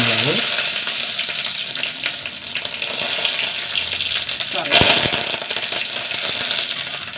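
Fenugreek and mustard seeds in hot oil sizzling steadily and loudly up close, a dense continuous crackle with a brief stronger surge partway through.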